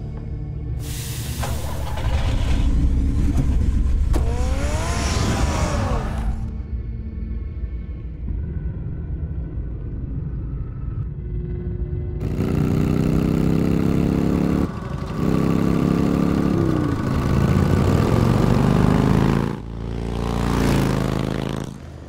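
Car engine in Batman: The Telltale Series revving in loud, rising bursts with rumbling idle between, a short quieter gap in the middle, no talk.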